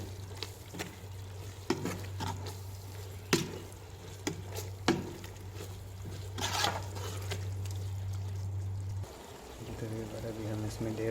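Chicken with turmeric powder stirred and frying in a pan for chicken bhindi, a steady close sizzle with scraping stirs, quieter after a brief pause near the end.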